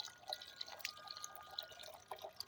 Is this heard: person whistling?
no